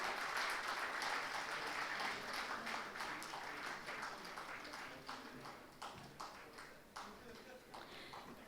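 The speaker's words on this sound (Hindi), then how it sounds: "ज़ोरदार तालियों के बीच में ये अनवीलिंग।" Loud applause fills a hall during an unveiling at a business event, sustained clapping that slowly fades, with a voice briefly audible underneath.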